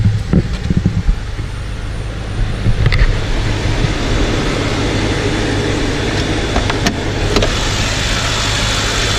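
A BMW M6 F13's 4.4-litre, 600-horsepower V8 engine rumbles steadily at idle, close by, with a few sharp revving blips early on before settling into a loud, even drone.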